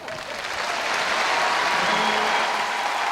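Sustained applause from the spectator crowd at the IFSC Climbing World Championships men's boulder final in Paris, rising quickly into a dense, steady wash of clapping that holds throughout.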